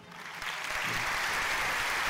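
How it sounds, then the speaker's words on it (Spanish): Applause from a live comedy show audience swells quickly and holds as a dense, steady clapping wash for about two seconds. "El aplauso fuerte para el grupo"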